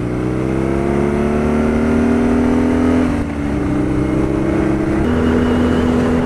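A 2019 BMW R nineT Scrambler engine on a test ride, a loud, close, steady drone whose pitch climbs, dips briefly and settles, like a burbling overrun.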